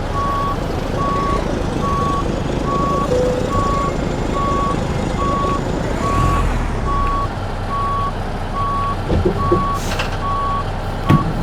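A Cat CT660 truck in American Truck Simulator reverses under a trailer, its loud, evenly spaced reversing beeps pulsing over a steady diesel engine rumble, with a brief hiss and clunk near the end.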